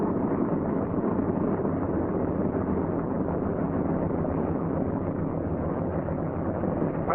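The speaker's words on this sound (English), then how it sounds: "Idle the engine to between 600 and 800 RPM until the oil pressure shows on the gauge" A C-47 aircraft engine idles at low RPM during warm-up, a steady, dense mechanical drone that holds loud and unbroken throughout with no talk over it.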